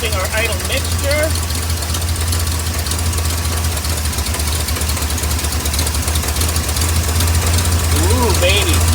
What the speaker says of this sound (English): Now I'm adjusting our idle mixture.